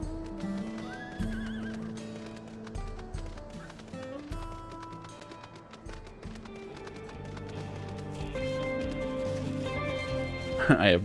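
Horse neighing and clip-clopping hooves in the Final Fantasy XIV video game, a whinny rising over steady galloping with layered game music and effects, growing louder and busier toward the end.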